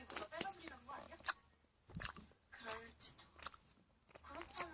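Biting and chewing of homemade donut-shaped jelly topped with toppings, close and soft, with several moist bites and squishy chews coming in short bursts separated by brief pauses.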